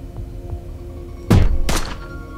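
A concussive gun fires in the space-heist game Heat Signature: two heavy, muffled thumps land close together over a low ambient hum, the first punchier and the second trailing off.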